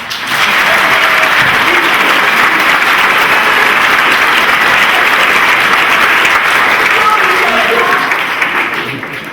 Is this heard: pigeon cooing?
no